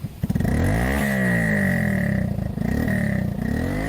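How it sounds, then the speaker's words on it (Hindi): A Hero Splendor motorcycle with an aftermarket Yamaha RX 100 silencer revs hard and steadily close by, its deep throaty exhaust rising and falling in pitch with a couple of throttle blips. "बिल्कुल प्रॉपर यामा के साउंड मिलेंगे आपको स्प्लेंडर के अंदर।"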